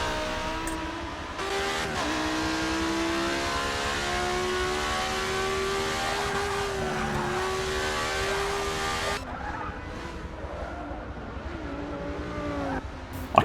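A Lamborghini Super Trofeo race car in Forza Motorsport 6, its engine revving loudly and shifting pitch through gears, with tire squeal during cornering before the note drops off near the end.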